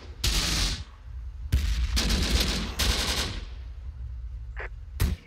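Mortar and gunfire from the video game Close Combat: The Bloody First: several loud, broadband bursts of explosions and rattling fire, separated by short gaps, with a final sharp crack near the end.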